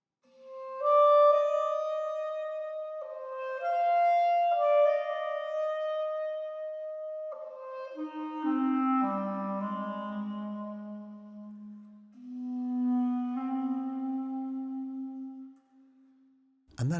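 Clarinet playing a slow melodic line from a home studio setup, heard dry with room reflections removed except from the front; sustained notes step downward into a low register, alone with no talk, ending with a brief click.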